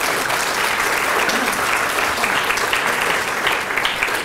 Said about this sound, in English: So just a brief round of applause for all of our speakers.